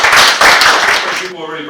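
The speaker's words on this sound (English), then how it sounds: "So give me a clap." A seminar audience bursts into a short round of brisk applause, dense clapping that fades out after about a second as a voice begins to speak.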